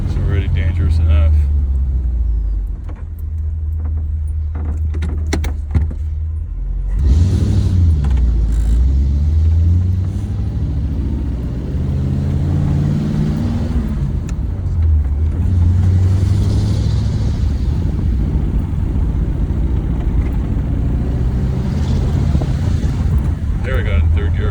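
A 1940 Ford Deluxe convertible rumbles along a street, its engine note dropping and rising again through gear changes, with wind buffeting the microphone and a low, steady road roar.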